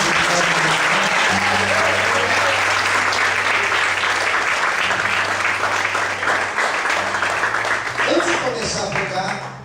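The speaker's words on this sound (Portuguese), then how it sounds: "Você pode desocupar sua mão e aplaudir." Loud, sustained applause from a church congregation fills the space with a thick, continuous clatter of many hands, while a steady sustained tone runs beneath and a few voices rise near the end.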